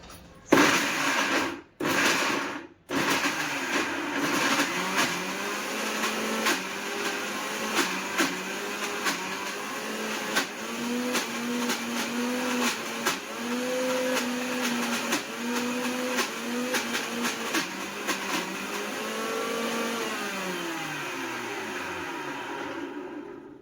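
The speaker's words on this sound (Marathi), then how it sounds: "आता मिक्सरला बारीक करून घेऊया." A kitchen mixer grinder grinds cooled roasted gravy spices in loud, close whirring bursts, starting and stopping a couple of times before a long continuous grind whose pitch wavers and finally winds down.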